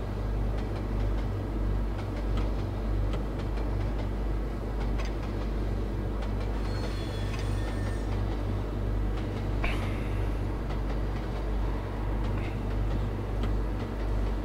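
A train rolls along in the Trainz railway simulator, a steady low rumble with faint rhythmic rail clicks and a brief higher squeal midway, continuous and fairly quiet throughout.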